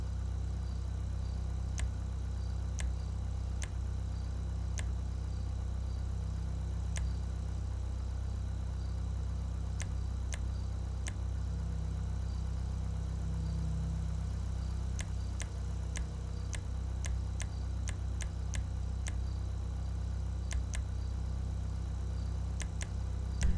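Annis 300R car in GTA 5 idles with a steady low engine rumble and constant drone, sitting near and even in level throughout, with faint periodic clicks over the top and no talk.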